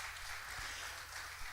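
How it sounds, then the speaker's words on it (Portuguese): A church congregation applauds during a Portuguese-language evangelical service, giving a steady, dense wash of clapping through the short stretch with a low hum of the room underneath and no clear talk. "Você pode aplaudir o Senhor?"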